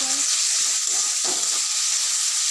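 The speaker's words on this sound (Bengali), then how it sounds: "এভাবে ভেজে নিচ্ছি হালকা একটু ভাজা ভাজা হয়ে লাল লাল ভাব আছে" Chicken and onions fry in a pan with a steady, close sizzle and hiss that runs without a break, joined by a few soft stirring scrapes near the middle.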